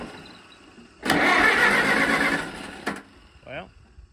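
A Farmall tractor engine cranks on the starter for about two seconds without firing because it is out of gas. The grinding is loud and close and stops abruptly, followed by a brief voice.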